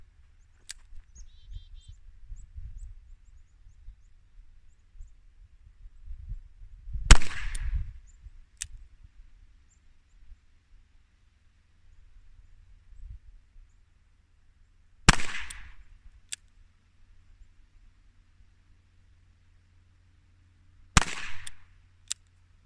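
Three sharp, loud gunshots from a Colt Police Positive revolver firing 145-grain rounds at an outdoor range, spaced several seconds apart, each a crisp crack with a short ringing tail over low background rumble.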